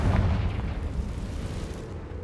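A Confringo fire spell explodes in the video game Hogwarts Legacy, a loud, sustained booming blast with deep rumble that holds steady for about two seconds without talk.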